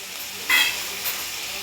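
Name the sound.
sautéing leafy vegetable bhaji in a pan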